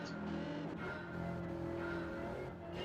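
Race cars in Gran Turismo 7 gathering at the start of a race, a faint steady drone of several engines with tonal whine and slight rise and fall, no voices.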